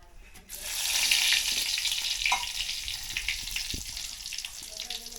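Curry leaves drop into hot oil for a chicken dish, bursting into a loud, bright sizzle that holds steady and then slowly fades, with a few soft clinks of a pan or spoon.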